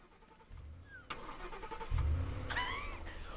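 A car engine starts in a Roblox game. A low rumble starts, then swells louder into a steady running drone, mixed with faint game effects.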